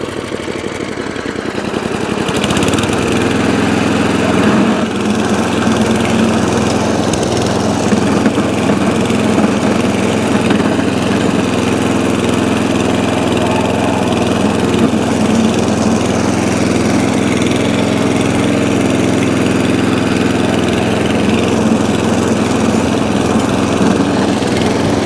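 An ATCO Balmoral cylinder lawnmower engine idles steadily after a ring gear replacement, a constant, even drone that holds from start to finish with no talk over it.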